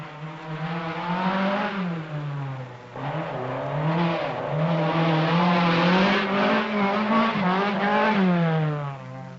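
Mercedes saloons, including a 280E, racing over a rough section of the Safari Rally, loud engines droning and rising and falling in pitch as the cars pass close, with no talk.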